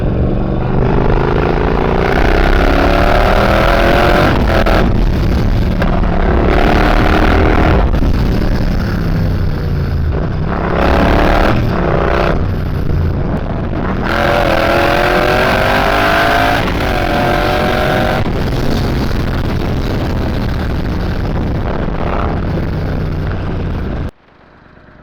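A motorcycle engine runs steadily and revs up and down repeatedly as it rides and brakes a few times, loud and close, with wind noise, before cutting off at the end.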